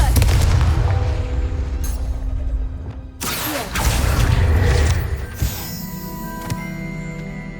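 The Confringo fire spell in the video game Hogwarts Legacy goes off as a loud burst and a booming explosion, followed by crackling debris and a rumbling tail, with another heavy impact a few seconds later.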